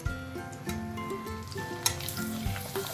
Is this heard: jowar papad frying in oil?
yes